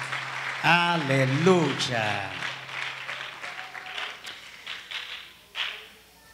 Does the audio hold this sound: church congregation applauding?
yes